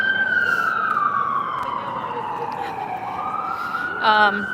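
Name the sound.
emergency vehicle sirens passing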